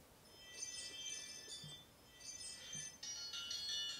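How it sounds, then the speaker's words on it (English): Bright, tinkling wind-chime alert tone from the Ring camera app, ringing in soft repeated clusters over faint background hiss. No voices. "I think the wind chime works great."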